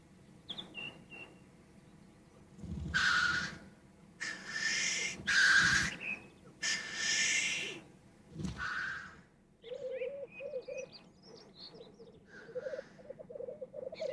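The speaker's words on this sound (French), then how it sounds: "la parade des tétralyres, dont vous entendrez les roucoulements à plusieurs centaines de mètres de distance" Black grouse coo during their courtship display on a mountain, bubbling rolling calls that rise and fall in several loud bursts, heard outdoors with fainter bird calls in between.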